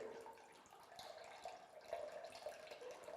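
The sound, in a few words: dirty water draining out of a paint sprayer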